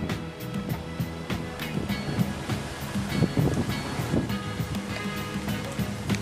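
Gusty wind in Ryde, Sydney, rushes and rumbles against the microphone, mixed with a broad wash of outdoor noise, loud and continuous.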